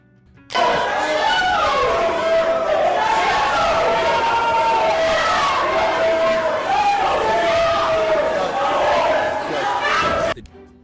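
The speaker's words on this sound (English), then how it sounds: "a collective outcry erupts from the gallery. Her supporters begin shouting in protest, voicing their discontent over the ruling" Courtroom gallery erupts in outcry as supporters shout in protest after a ruling, a loud dense crowd of raised voices and yelling that starts abruptly, holds steady for about ten seconds, then cuts off.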